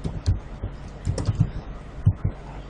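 Keystrokes tap on a computer keyboard in irregular bursts, some clicks sharper and louder than others, with short pauses between groups and no talking.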